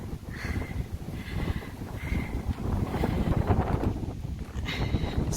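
Steady wind buffets the microphone with a continuous low rumble and gusty roar, no voices heard.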